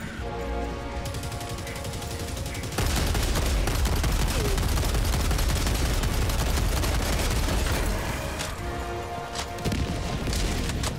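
Heavy 380mm artillery barrage with rapid gunfire in the game Helldivers 2, a dense continuous roar of blasts and shots that surges loud for several seconds, then eases into quieter scattered fire.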